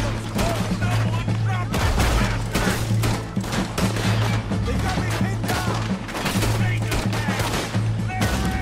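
Gunfire in Red Dead Redemption 2 during a train robbery, a dense, chaotic mix of repeated shots and crashes over a constant rumbling, with voices faintly present in the busy din.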